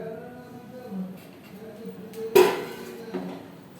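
A metal lid is set down onto a cooking pot of beef nihari with a single sharp clank, followed by a lighter tap a moment later, close and clear over a soft background hum.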